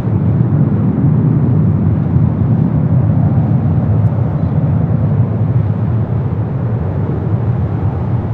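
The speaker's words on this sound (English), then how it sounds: "It's Delta 737 taking off on the north side." A Delta Boeing 737's jet engines roar at takeoff from the north side of LAX, a loud steady broadband rumble that holds constant throughout with no voices.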